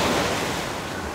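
Strong sea waves break on a beach at Anapa, a steady loud wash of surf with wind rumble, continuous and close throughout the brief moment.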